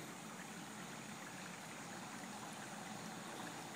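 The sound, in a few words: sump pump pumping out flood water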